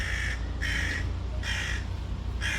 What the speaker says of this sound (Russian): О, ворона ругается.